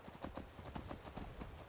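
Horse hooves clop in the video game Skyrim Special Edition, a quick steady rhythm of soft repeated hoofbeats at low volume, heard alone without talk.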